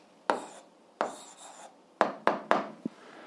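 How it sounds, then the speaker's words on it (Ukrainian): A pen writing an algebra answer on a surface, several short distinct scratching strokes close up, the first few spaced out and the last ones quicker, in a quiet room. "Ну що ж, записуємо відповідь. Пишемо відповідь."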